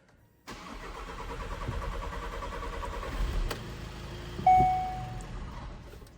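The 2.0 TDI diesel engine of a 2017 VW Tiguan cranks and fires, then settles into a steady idle at close range, with a brief electronic chime sounding near the end.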